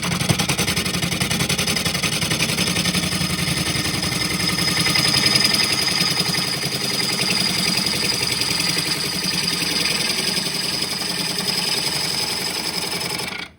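A wood lathe spins steadily as a turning gouge rides its bevel, cutting around and up the side of a wooden workpiece; a continuous, close, even whirring and scraping hiss runs throughout without pause or talk.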